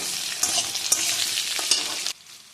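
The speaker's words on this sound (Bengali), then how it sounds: "এবারে দেব পরিমাণ মতো লবণ, আর একটু কষিয়ে নেব।" Potatoes stir-fried with salt in a pan, a crackling sizzle broken by sharp spatula scrapes and clinks at irregular moments, close and moderately loud before cutting off abruptly near the end; no voices.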